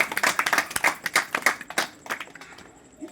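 Congregation members clap loudly in church, a dense run of sharp hand claps that fades toward the end.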